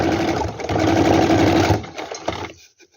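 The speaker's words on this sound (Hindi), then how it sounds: "ये सिलाई लगा रहे हैं।" A sewing machine stitching a strip onto a trouser pocket gives a loud, close, steady whirring run that slows and stops after about two seconds, followed by a few faint clicks.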